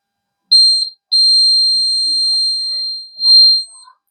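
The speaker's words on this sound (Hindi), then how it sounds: "बजर भी आवाज दे रहा है" The buzzer of an Arduino fire alarm project sounds a loud, piercing electronic tone, first a short beep, then a long sustained one of about two seconds, then another short pulse, with near silence between.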